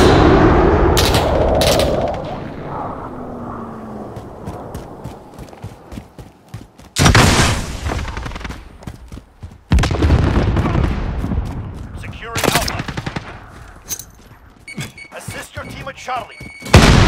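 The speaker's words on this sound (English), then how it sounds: "Allied precision airstrike." Heavy airstrike explosions in the Call of Duty Mobile video game, several loud broadband booms arriving in separate bursts amid scattered gunfire, with game voices calling out between blasts.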